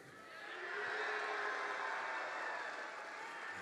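A crowd at a FIRST robotics district championship in the Pacific Northwest applauds and cheers, a dense, steady wash of noise that swells and then holds, heard from a distance inside a large arena.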